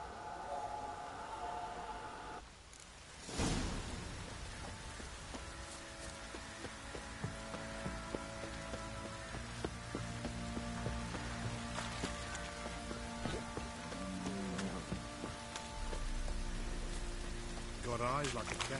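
Steady rain hiss in the Witcher 3 game world, a constant wash of falling water running throughout beneath character voices, music and other game sounds.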